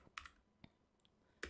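Keystrokes on a computer keyboard while entering an install command in an Ubuntu Server terminal: a few sparse, quiet clicks spread across a brief moment, with a firmer tap at the end.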